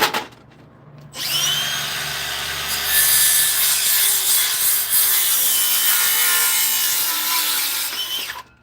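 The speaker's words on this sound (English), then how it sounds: "I bend the wood back enough so that the saw can sit right flat on it, nicely." A handheld power saw rips steadily through a board for a larger scaffolding saw horse, a loud continuous whine and grind lasting several seconds after a brief spin-up, then tapering off as the cut ends.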